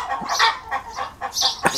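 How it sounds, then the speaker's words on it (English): Several chickens in laying mode cluck and squawk nearby in a busy, irregular flurry of short calls, with no voices over them. "Sorry about all the noise. That's the joy of having chickens around"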